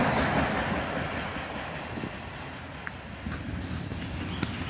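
A CSX autorack freight train rolls past close by with a dense steady rumble of wheels and cars, occasional faint squeals and clicks over the top.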